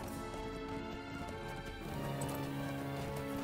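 Horse hooves clip-clop in a steady rhythm as a mount rides down into a gorge in the game LotRO, faint and set against droning game music.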